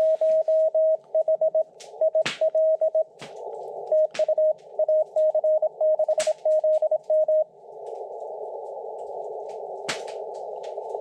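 Morse code tones from ham radio signals received at a remote bush station in Ontario during Winter Field Day, sharp steady keyed beeps in irregular bursts over a quiet band, ending in a hiss of open static.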